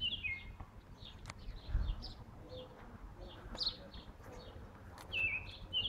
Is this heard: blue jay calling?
yes